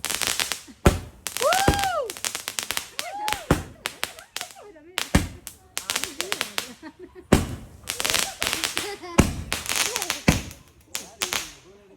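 Firecrackers set off at an outdoor birthday celebration in Australia, a series of loud sharp bangs and crackling bursts in irregular clusters, with people talking and calling out between blasts.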